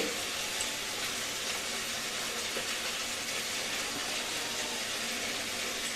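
Goat head curry spices stir-fried with ground garam masala paste give a steady, even sizzling hiss that holds unchanged throughout, with no voices.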